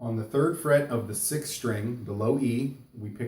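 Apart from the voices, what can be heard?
No everyday noise stands out behind the speech.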